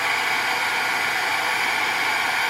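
A heat tool blows steadily and loudly while it melts embossing powder on a handmade journal embellishment, a continuous broadband whoosh with no voices.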